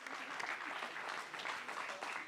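A crowd at a women in sports panel applauds its panelists during a standing ovation, continuous close clapping with a lively uneven texture throughout.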